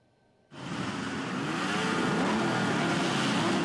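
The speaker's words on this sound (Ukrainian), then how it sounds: "Рев моторів та гори шин." Motorcycle engines roar together at a bikers' protest in a city square, a loud, sustained revving wall of sound that bursts in abruptly after a quiet moment and holds steady.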